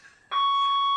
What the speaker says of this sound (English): a fire alarm accidentally went off